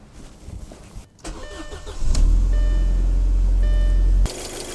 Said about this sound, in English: now we can start the car up